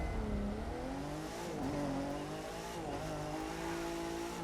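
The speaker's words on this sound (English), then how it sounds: "370Z. Let's get our drift on." A Nissan 370Z drifting in the racing game The Crew 2, its engine droning steadily with pitch dips and rises as the revs shift, accompanied by a continuous hiss of tire noise and no talk.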